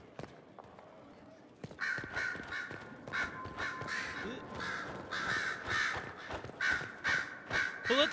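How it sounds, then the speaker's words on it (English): Crows cawing in Dragon Age: Inquisition, a flock of harsh, repeated caws coming in quick irregular bursts, loud and close, following a quieter stretch of faint ambient game sound. "Who let the crows in here?"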